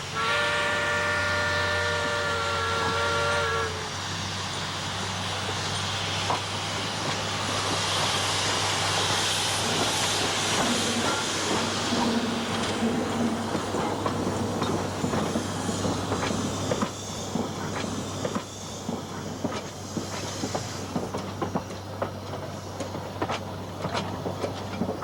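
Ancient tiny steam locomotives working a sugarcane plantation railway with wooden cane cars: a steady loud rumble with clickety-clack of wheels, a brief whistle-like tone at the start, and continuous rolling train noise throughout, no talk.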